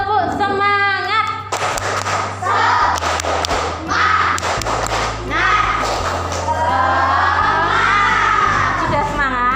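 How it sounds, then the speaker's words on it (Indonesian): Children in a school classroom perform the tepuk semangat clapping chant, shouting rhythmic words in unison while sharp claps punctuate the chant, close and lively, with a backing tone running underneath. "Tepuk semangat dulu ya. Tepuk semangat."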